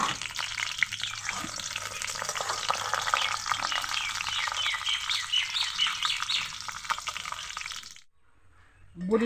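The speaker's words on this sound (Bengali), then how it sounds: "এগুলোকে আমি এখন ভেজে নেব।" Lentil badi (dried dal wadi) frying in refined oil for shukto, a steady dense crackling sizzle close by and fairly loud for about eight seconds before it drops to near silence, then briefly resumes.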